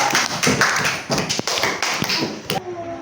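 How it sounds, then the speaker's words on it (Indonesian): Schoolchildren applaud in a classroom with a burst of sharp, uneven claps, several loud distinct hits standing out, ending abruptly after about two and a half seconds. "Iya, benar. Tepuk tangan."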